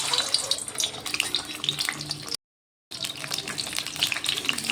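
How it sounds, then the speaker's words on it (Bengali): Boiled egg frying in hot oil in a pan for egg biryani, a steady hiss and crackle that runs continuously and is cut by one brief gap of silence. "তেলটা গরম হয়ে গেল, ডিমটা ভেজে নিলাম।"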